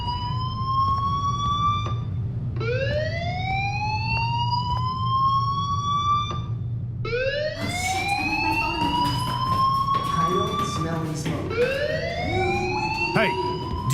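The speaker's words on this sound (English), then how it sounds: "do you hear that fire alarm?" In the video game Life Is Strange, a fire alarm sounds loud and continuous, with repeated rising wailing sweeps that restart every few seconds and layer over each other toward the end.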